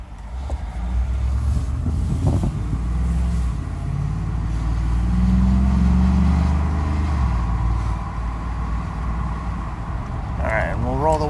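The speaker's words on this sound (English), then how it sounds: "we're in the 2012 Ford F-150 with the 5-liter V8, and I want to show you what this sounds like" A 2012 Ford F-150 with the 5-liter V8 and stock intake rumbles with a steady, loud low drone and a rising rev in the middle, with the windows open and someone talking over it.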